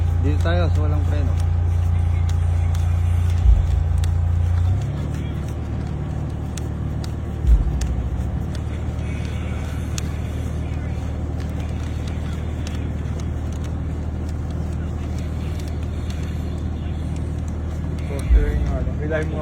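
A Toyota Vios automatic sedan on the road, its engine a steady low hum with a droning tone that shifts down partway through, occasional thumps over it, and voices talking throughout.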